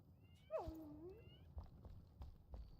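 A cat gives a single clear, drawn-out meow, moderately distant and fairly quiet, followed by soft thuds and light tapping in a quiet room.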